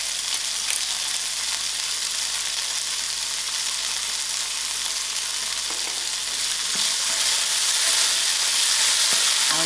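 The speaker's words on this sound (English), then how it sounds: "I'll allow this to fry for about 5 minutes." Beans fry in a pan with a steady, close sizzling hiss that holds constant for the whole stretch and grows slightly louder near the end, with a few faint stirring scrapes and no talking.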